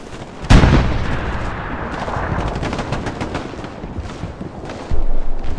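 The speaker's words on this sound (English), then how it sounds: "Sounds like there's a tank right there. A Panzer." Gunfire and artillery in a World War II battle game, with a heavy close blast followed by a rumbling stretch of mixed shots and distant booms, then another loud burst at the end.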